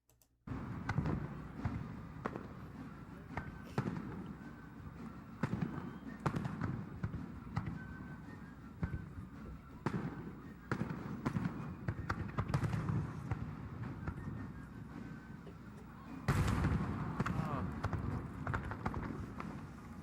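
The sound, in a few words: fireworks fired over Lake Michigan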